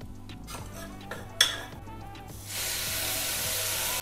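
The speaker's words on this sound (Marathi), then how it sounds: "राईसला आता उकळी आली आहे" A pot of basmati rice for vegetable pulav, cooked with spices, comes to the boil: a few utensil clinks and a sharp tap, then a steady, even hiss of bubbling water.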